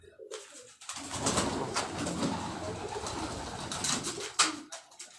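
Red pigeons kept on a rooftop coo and flutter close by, a busy run of soft coos and wing sounds lasting several seconds, with a sharp burst near the end.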